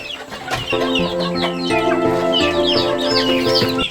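Chickens around one to two months old cluck and call close by, several overlapping voices in quick repeated bursts over a low background hum.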